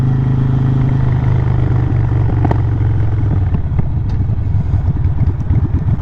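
A Harley-Davidson Sportster with loud exhaust pipes rumbles close by with a deep, uneven engine throb that rises slightly toward the end.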